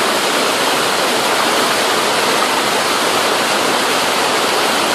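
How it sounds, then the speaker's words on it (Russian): A powerful waterfall stream pours into a gorge, giving a loud, constant broadband roar and rush of water heard up close with no voices. "Вот здесь поток уходит туда, устремляется в ущелье."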